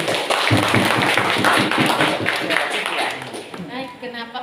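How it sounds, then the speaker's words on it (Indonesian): An audience at a school student council candidate debate claps steadily and loudly for a few seconds, mixed with voices and crowd noise. "Tepuk tangan semua."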